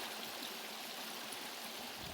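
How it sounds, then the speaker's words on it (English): Water flows steadily along a small drainage line in the African bush, a constant soft broadband rushing with a gentle trickle texture and no voices. "Nice to see some water still flowing along these drainage lines."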